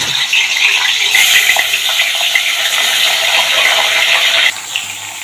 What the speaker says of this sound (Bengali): দেখো কড়াইতে সর্ষের তেল দিয়েছি, এটা গরম হয়ে গেছে, মাছের মাথাটাও ছেড়ে দিলাম।